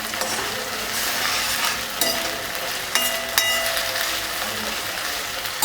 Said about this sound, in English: So let it continue to braise on medium heat.